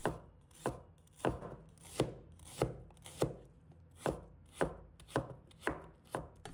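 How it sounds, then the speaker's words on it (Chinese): A knife chopping shallots into small slices on a cutting board, about a dozen distinct, evenly spaced thuds at a steady unhurried rhythm, close and clear with no talking. "再准备几个红葱头，把它切成小片。"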